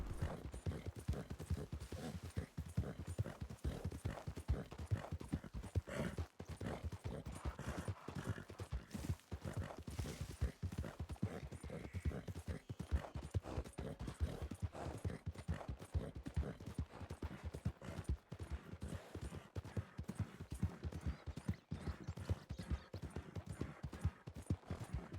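Steady horse hooves clip-clop without pause, a continuous rhythmic trot of a low-tier horse in a video game, staying at an even, moderate volume throughout.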